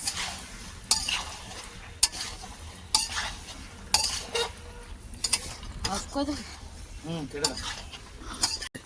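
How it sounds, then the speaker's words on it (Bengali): Food cooking over a wood fire is stirred with a utensil in a pot, giving repeated scraping and clattering strokes at an irregular rhythm, fairly close, with voices faintly in the background. "ভালো করে নাড়াও, ভালো করে নাড়াও।"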